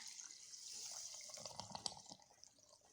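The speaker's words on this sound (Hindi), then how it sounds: "मैं पानी इसमें ऐड कर रही हूँ" Water is poured into freshly made orange juice, a light splashing trickle at low volume that fades toward the end.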